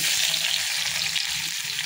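Onions frying in hot oil in a pan, a steady close sizzle with crackling throughout, no talk.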